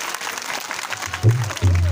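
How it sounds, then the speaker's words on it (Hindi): An audience claps at an outdoor religious katha gathering in a village, scattered clapping under a loud amplified voice, with two bursts of booming low sound toward the end. "और एक बार सभी लोग जोरदार तालियां बजा देंगे"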